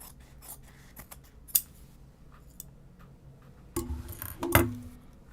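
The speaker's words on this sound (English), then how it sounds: "I am going to trim that down" Scissors trimming fabric interfacing for a tote bag, a series of small crisp snips and clicks, then a louder closer cluster of cuts near the end, with no talk.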